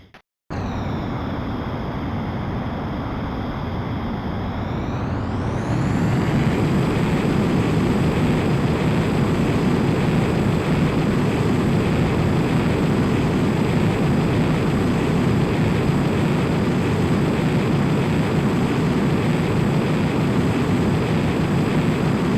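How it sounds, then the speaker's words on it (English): A fighter jet in Ace Combat X for PSP spools up on the runway with a steady roar and then surges louder into a sustained, rising takeoff thrust, close and continuous with no talk. "Griffith 1, you are cleared for takeoff."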